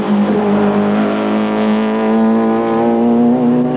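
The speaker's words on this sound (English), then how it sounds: "Joubert was pushing as hard as he could down the notorious Kyalami mineshaft and was forced to lock up the brakes as he stormed into Continental Corner" A 1993 South African Super Touring race car at Kyalami circuit screams down the mineshaft straight and brakes hard into Continental Corner, a loud, close, sustained high-revving engine note.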